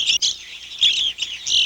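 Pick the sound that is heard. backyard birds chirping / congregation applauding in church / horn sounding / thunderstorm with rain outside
backyard birds chirping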